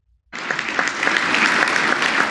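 A banquet audience at the White House Correspondents' Dinner bursts into applause after a brief silence, loud dense clapping that swells and holds steady with scattered sharper claps.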